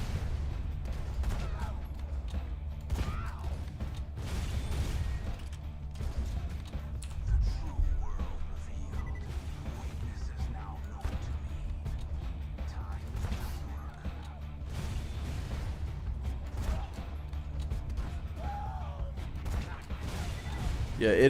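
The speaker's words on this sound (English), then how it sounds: "well he's throwing grenades at me" Grenade blasts and gunfire in Borderlands 2 rumble continuously, with low booms and sharp shots packed densely throughout a sniper-only run, while a player talks over the action.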